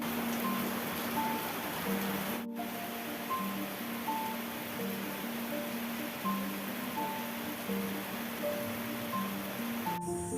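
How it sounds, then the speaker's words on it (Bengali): Heavy pouring rain as a steady, even hiss of dense drops throughout, with a faint continuous tonal hum running under it. "এদিকে দেখো চলে এসছে ঝমঝমিয়ে বৃষ্টি"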